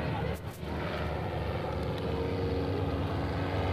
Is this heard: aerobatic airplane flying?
yes